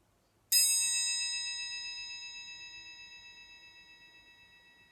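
A metal triangle struck once after brief silence, giving a bright ringing tone that rings on and slowly fades across several seconds, alone with no voices.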